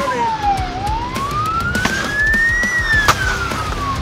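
A police car siren wails in a rising and falling sweep during a chase on Polish roads, loud and close, over road and engine noise.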